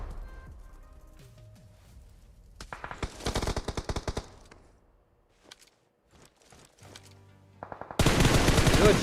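Video game gunfire in a tournament match: rapid automatic bursts with a few single shots in between, fading to quiet, then a loud sustained volley at the close.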